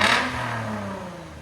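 A 2014 Lexus IS 250 with a 2.5L engine and valvetronic mufflers, valves open, revs hard up close, the exhaust rising into a loud roar before easing back.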